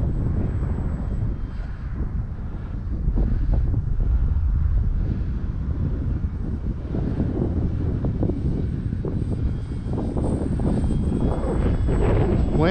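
Strong gusty wind buffets the microphone at an RC glider flying field during the maiden flight of a Tower Hobbies ASW 28, a loud continuous low rumble with occasional faint higher engine-like whine, no talking.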